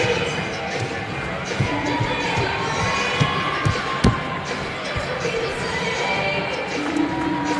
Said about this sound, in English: this crowd was getting pretty into it and loud